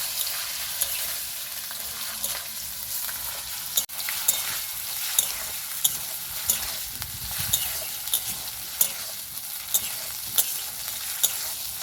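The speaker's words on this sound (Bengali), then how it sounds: "গাজরটাকে আমি খুব ভালো মতো করে ভেজে নেব।" Grated carrot fries in a pan with a continuous soft sizzle, punctuated by regular light clicks and scrapes of stirring.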